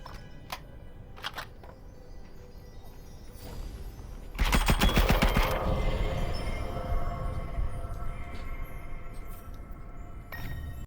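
Gunfire from the video game The Light Brigade: scattered single shots, then a dense rapid burst of punchy firing followed by a sustained noisy wash and a few more isolated shots, fairly loud with no talk.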